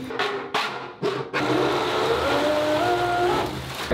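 An electric motor for an RC boat is tested: a few short bursts, then it runs at a steady, close, loud whine whose pitch rises slightly as it spins up.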